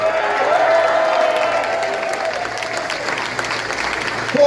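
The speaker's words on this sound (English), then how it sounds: "Give him a round of applause." At a political rally in St. Catharines, a large crowd applauds in a steady, full wash of clapping, with a brief tonal whine running through the first few seconds.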